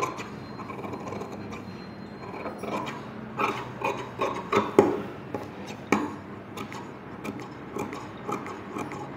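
Fabric for an umbrella frock being cut with tailoring scissors, leaving a quarter-inch margin: a run of close, crisp snips and rasping cuts that come in irregular bursts, moderately loud with no talking.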